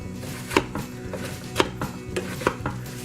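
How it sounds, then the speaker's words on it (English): A mix and chop tool works through hard apple chunks in a slow cooker, giving several dull knocks and scraping thuds at an uneven pace, close and fairly loud with no talking. "I'm just going to use this little mix and chop tool to see what's going on in here"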